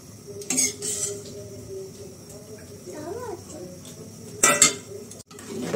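Fried winter vegetables go into a pot of khichuri with a few sharp metallic clinks and clanks of a utensil against the pot. A person talks quietly between the clatters.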